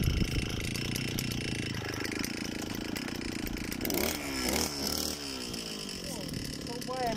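A Stihl brush cutter fitted with a cutting disc runs steadily, its engine droning loudly throughout with a brief rise in pitch and load near the middle while mowing.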